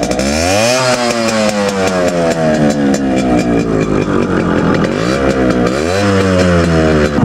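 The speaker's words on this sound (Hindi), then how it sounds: "और अब मैं आपको इसका एग्जॉस्ट नोट सुना देता हूँ।" A Yamaha RX 100 two-stroke motorcycle rebuilt as a Harley-Davidson Forty-Eight replica idles and revs loudly and close, its exhaust pitch climbing and falling through several throttle blips, with no talk over it.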